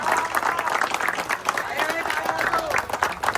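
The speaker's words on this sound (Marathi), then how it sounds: "जरा प्लीज टाळ्या वाजून" A crowd at a Ganpati arrival celebration in Mumbai claps to welcome a volunteer. The applause is brief and scattered, with voices talking over it.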